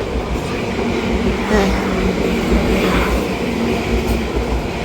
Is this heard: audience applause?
no